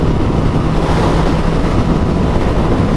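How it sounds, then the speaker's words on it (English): Steady, loud wind roar buffets the microphone while riding a Triumph Street Triple 675R motorcycle on an open road into a headwind, a continuous broadband rush with a low engine hum beneath and no talking. "Oh, we got a headwind or something."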